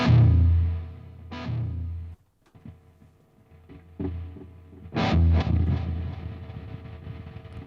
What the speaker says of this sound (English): if you work with extreme distortions, like this one here